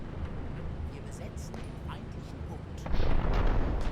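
Tank gunfire and artillery booms rumble in a Platoon Commander battle at Kollantai, with dull distant blasts and a louder rolling barrage near the end.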